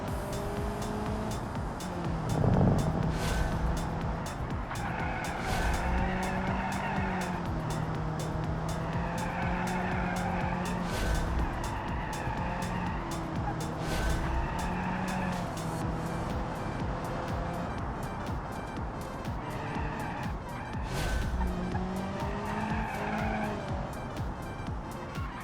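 Race car in a racing video game, engine droning steadily while the tires squeal and skid through corners in repeated drawn-out slides, loud and continuous throughout.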